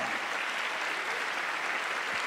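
Audience applause for a book at a church event, steady dense clapping from a crowd throughout, fairly close and sustained with no voices over it.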